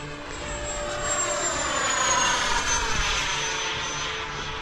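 A model F-22 jet on its maiden flight makes a full-speed pass overhead, its engine whine rising as it approaches and sliding downward in pitch as it passes and fades, with no voices.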